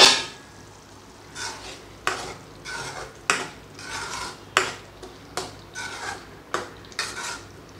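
A spoon scrapes and stirs prawn and drumstick gravy around a pot in a series of repeated strokes, each with a metallic clink, over a faint low background hum.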